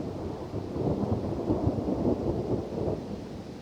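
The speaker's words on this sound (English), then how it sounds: "it's starting to rain, and you can hear probably thunder" Steady rain pours down during a storm, with low rolling thunder rumbling through the downpour; no one speaks.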